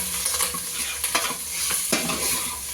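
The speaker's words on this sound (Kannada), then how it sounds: "ಎಣ್ಣೆ ಹಾಕಿ ಮಟನ್ ಹಾಕಿ ಕೈಯಾಡಕತ್ತಾರ" Mutton frying in oil in a pot over a traditional wood-fired hearth, stirred steadily: a continuous sizzle with repeated scraping strokes of the spoon, close and fairly loud, with no voices.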